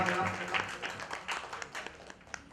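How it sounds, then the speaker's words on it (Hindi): An audience at a Bhagwat Katha religious discourse claps in welcome for a guest, a dense patter of hand claps running steadily beneath a speaking voice throughout. "सब लोग जोरदार तालियों से स्वागत करेंगे।"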